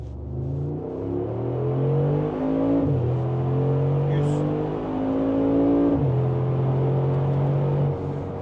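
A 700-horsepower Mercedes G63 Brabus engine revs up in rising, stepped pulls, loud and close, dropping back and climbing again several times over a steady rumble.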